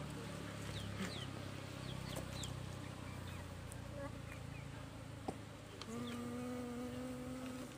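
A steady, dense hum of many honeybees buzzing close by as the bees are moved, with faint birdsong and a rooster-like call in the background.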